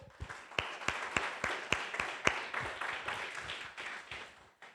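Rhythmic clapping fills a church worship service, sharp, distinct claps in a steady beat with a wash of applause behind, fading out at the end.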